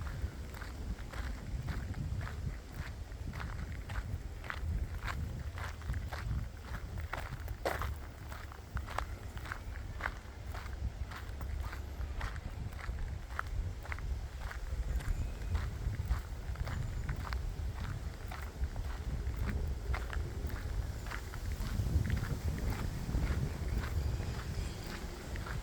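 Steady wind blows across the grounds of Forty Hall Estate in Greater London, a constant broadband rush with buffeting against the microphone, mixed with faint rhythmic footsteps on a path throughout.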